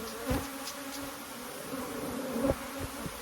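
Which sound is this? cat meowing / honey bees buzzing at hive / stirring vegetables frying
honey bees buzzing at hive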